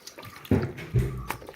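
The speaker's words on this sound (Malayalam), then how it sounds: "ഈ കപ്പ കഴുകി വാരി ഇതിനകത്തോട്ടാക്കാം." Chopped tapioca being washed and scooped out of water, a few close splashy sloshes and clatters with quiet gaps between them.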